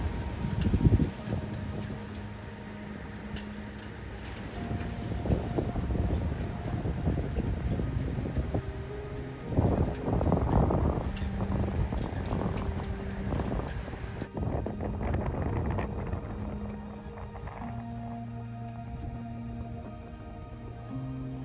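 Gusty wind buffets the microphone outdoors on a Lake Michigan beach at Fond du Lac in steady rushing bursts, with a low rumble and a faint hum underneath.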